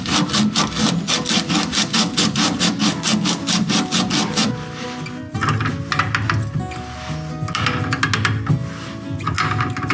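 A hacksaw cuts through the end of a plumbing pipe, with a fast, steady back-and-forth rasping rhythm of loud, close strokes that pause briefly midway and then resume.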